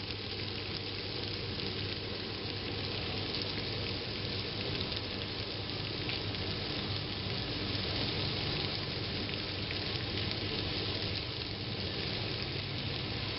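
Boiled varenyky dumplings frying in a pan, giving a dense, continuous sizzle that stays steady and close throughout, with no voices.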